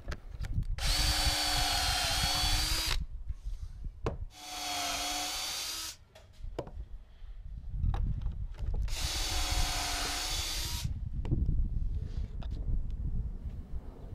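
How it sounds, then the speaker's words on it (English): A power drill bores pocket holes into wood boards for a floating desk build, in three long whining bursts of about two seconds each, close and loud, separated by brief pauses with handling clatter. "So we just put our pocket holes, stagger them up and down the length of the board."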